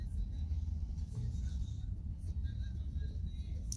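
A Honda Civic EK9 engine drones steadily at high revs in the No Limit Drag Racing game, quiet and continuous beneath a person talking.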